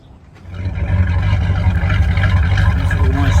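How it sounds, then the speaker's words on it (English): Twin boat engines start at a lake launch during summer pool, rising from quiet into a loud, steady low rumble that holds close and unbroken. "And there's the engines."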